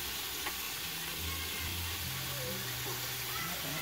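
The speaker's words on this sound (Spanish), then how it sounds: "voy a mover mis chiles." Red chiles for chicken in red chile sauce fry in a pan, a soft steady sizzle with faint stirring, fairly quiet and low throughout.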